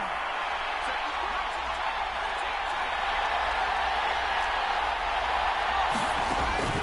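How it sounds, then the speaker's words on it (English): A stadium crowd in an American football video game roars steadily and continuously, with a commentator talking over the noise. "Crowd getting in it a bit already."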